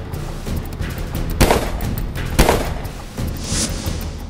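Gunfire effect in a Marathi TV news report about criminals shooting at police in rural Pune: two sharp, loud bangs about a second apart over a rumbling background, then a softer burst near the end.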